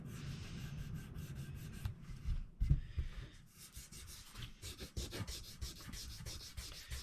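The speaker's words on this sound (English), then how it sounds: "It's easier with the tape where you're not hitting on sanding down on the wood" Close, quiet rhythmic rubbing of sandpaper on guitar frets, repeated back-and-forth sanding strokes with short pauses between passes.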